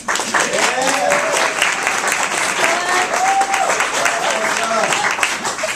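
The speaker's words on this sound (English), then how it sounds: "Let's give her a round of applause." An audience at an environmental justice event applauds a speaker, dense sustained clapping filling the room at close range while a voice speaks over the ovation.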